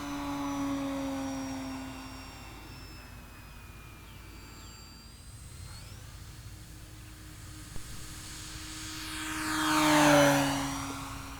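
A Durafly Gloster Gladiator Mk1 electric foam model biplane flying a knife-edge circle: a thin motor whine drifts at a distance, then swells into a louder, closer pass near the end before fading.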